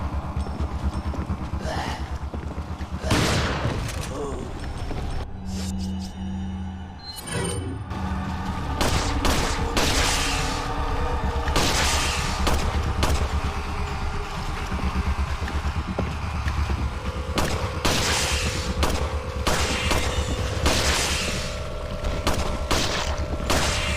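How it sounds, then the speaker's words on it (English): Enemy gunfire in Resident Evil 4 rings out in repeated loud bursts and volleys of shots, with booming impacts and clattering, dense action noise throughout. "this guy's shooting at me"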